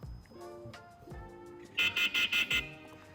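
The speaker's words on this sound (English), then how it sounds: "sounds more like an alarm" An INMOTION E20 electric unicycle sounds its alarm: a few soft clicks and tones, then a loud series of five sharp, evenly spaced high beeps close by.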